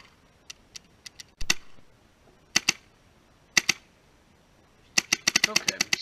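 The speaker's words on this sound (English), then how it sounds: "Okay, so I've started to shoot here." A Proto SLG paintball marker fires in scattered single shots, then a fast burst near the end. The shots are sharp, loud and close, and no one talks.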